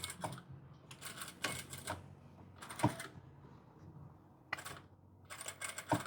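A sewing machine stitches along the edge of a women's dress shirt placket with a backstitch, running in bursts of rapid mechanical clatter broken by short pauses, close but fairly quiet and without talking.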